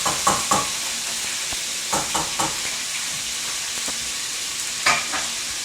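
Steak frying in hot oil with garlic and salt: a steady broadband sizzle with scattered pops and crackles, plus a few soft stirring or utensil scrapes near the start and end. No one speaks.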